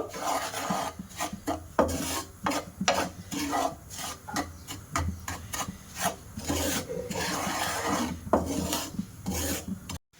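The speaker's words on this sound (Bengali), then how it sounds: "সুজিটা হালকা লাল লাল করে ভাজা করে নেব" A spoon scrapes and stirs 100 grams of semolina frying in melted ghee in a frying pan, producing close, rhythmic rasping strokes with a faint sizzle beneath.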